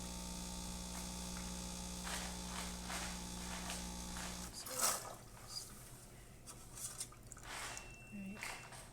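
An Expobar Brewtus IV espresso machine, just serviced and restored, runs its pump with a steady low electric hum and buzz, then cuts off midway, leaving faint dripping, clinks and a quiet voice.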